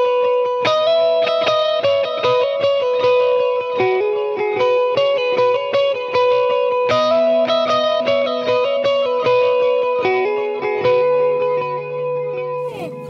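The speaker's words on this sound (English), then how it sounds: "When you turn it on and you got the delay going, it sounds a little like this." An electric guitar with delay plays a song, picked notes ringing into echoing repeats that blend into a shimmering wash, steady and loud with no voices.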